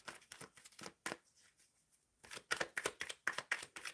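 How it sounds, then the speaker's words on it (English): Tarot cards being shuffled by hand for a reading: a run of crisp riffling and slapping bursts, with a quieter pause in the middle before more rapid shuffles, close and clear with no talking. "Shuffling for M Love. Shuffling for M Love."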